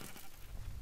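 Sheep bleating in an arcade video game, a brief faint bleat over busy, noisy game sound.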